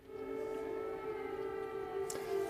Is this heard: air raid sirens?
yes